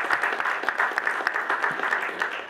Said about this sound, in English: they deserve the same round of applause that Mario got earlier.